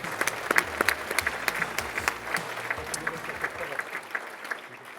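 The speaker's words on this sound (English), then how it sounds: "let's give her a round of applause." Audience applause at the 2019 Oregon Sports Hall of Fame induction ceremony, steady dense clapping lasting about five seconds and slowly fading, with no one talking over it.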